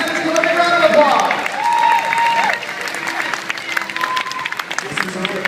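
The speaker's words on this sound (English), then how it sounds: "Give them a round of applause." A live stage-show audience at Universal Florida applauds contestants for Fear Factor Live, a steady wash of clapping and crowd noise under an announcer's amplified voice.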